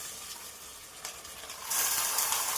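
Half a kilo of mutton goes into a pan of onions already fried golden brown, and a steady sizzle follows. The frying grows clearly louder and brighter partway through and stays close and constant.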